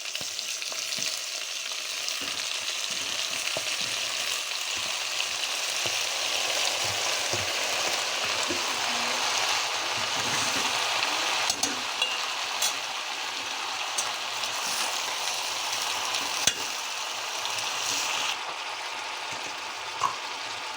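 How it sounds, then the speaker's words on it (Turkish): Fava beans sautéing with onion in a pan on a stovetop, a steady close sizzle and crackle of frying running throughout with occasional stirring clinks. "Bunu ocağımıza alacağız arkadaşlar. Soğanla biraz kavuracağız."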